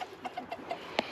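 Soft, rapid clucks from chickens nearby, a quick series of short calls ending in a sharper squawk.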